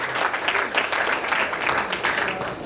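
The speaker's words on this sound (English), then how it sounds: "Can I get a round of applause for the bride?" Wedding guests applaud the bride during the speeches, a lively, sustained round of clapping from a roomful of people with no voices over it.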